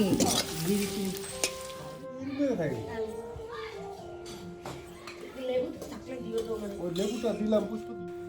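Coriander leaf fritters sizzle and crackle in hot oil throughout, steady and close, while a child and adults chat nearby.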